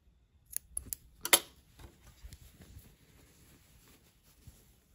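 Scissors snip close to the stitching while trimming fabric for a dress neckline, giving a few quiet, sharp cuts early on with faint handling noise afterwards.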